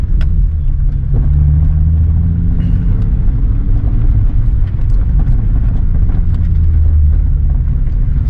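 A Nissan 350Z with a manual gearbox pulls away from a stop, its engine a steady, loud low rumble that swells and shifts in pitch as the car moves off, with no voices.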